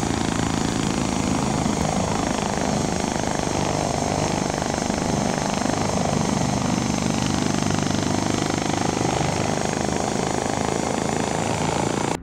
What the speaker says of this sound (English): a large vertical takeoff aircraft with double the capacity of the previous V-22 Osprey